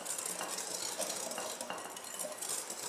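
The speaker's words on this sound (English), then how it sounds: "So now we're going to whisk in the self-rising flour." Self-rising flour is whisked into a blueberry buckle batter in a bowl, giving soft, quick scraping and light clinking strokes. The sound is faint and continuous, with no talking.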